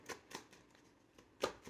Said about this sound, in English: I'm being told to shuffle again